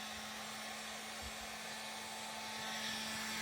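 A 1400 W heat gun running off a JIANSHUN inverter blows steadily, a constant whooshing roar with a faint electric whine, unchanging throughout with no voices.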